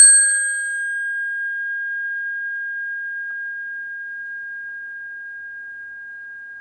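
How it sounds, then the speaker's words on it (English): A single strike of a bell at a Sunday service rings out with a clear metallic tone, its bright overtones fading quickly while the fundamental hum lingers and slowly decays into silence. "Let us follow the sound of this bell into silence."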